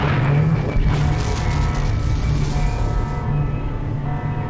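Grenade explosion in the Half-Life 2 mod Minerva Metastasis, a loud sustained low boom that rolls on and slowly tails off, dense rumble filling the whole stretch with no voices.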